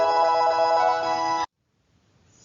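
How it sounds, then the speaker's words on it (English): Mobile phone ringtone in a classroom, a loud tonal melody playing for about a second and a half before cutting off abruptly into quiet. "sorry, that was my phone."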